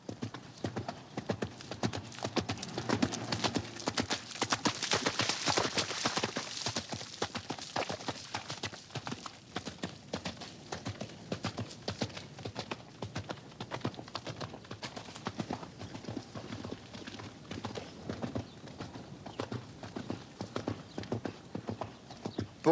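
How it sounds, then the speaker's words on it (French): A horse galloping, with rapid continuous clip-clop hoofbeats in a steady driving rhythm, fairly close and loud, running unbroken with no talk. "Pour un cheval, le galop, c'est une autre façon de courir."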